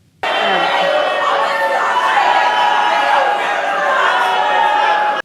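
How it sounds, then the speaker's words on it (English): A large, dense crowd heckles and boos Nancy Pelosi, a loud and sustained roar of jeering voices that starts abruptly and holds steady for several seconds. "We'll let you know when the crowd stops heckling her."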